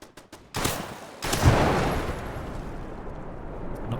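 A turret in modded Fallout 4 (NOMAD modlist) fires a few quick shots and then a heavy burst of gunfire that booms and rolls away into a long reverberant tail, loud and close with no voices.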